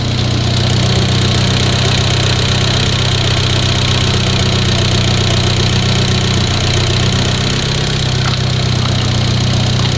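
A tuned Abarth engine making about 300 PS runs loud and close, a dense, steady idle with a deep throb and rough mechanical texture that holds without pause throughout.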